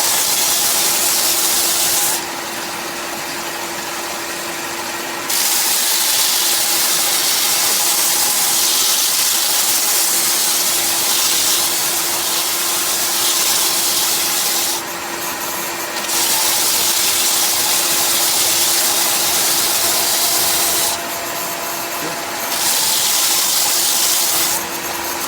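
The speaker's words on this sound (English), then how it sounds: "Dust collector on again" A workshop dust collector runs continuously with a steady, loud broadband roar and a faint hum, while sharper hissing bursts rise over it at intervals.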